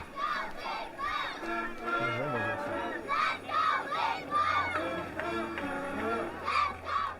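The Edgewater Elementary School Sharks cheer squad chants and shouts in rhythmic bursts at the Marysville Christmas tree parade, young voices rising and falling over a low outdoor hum.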